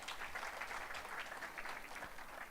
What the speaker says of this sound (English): You can also clap for yourselves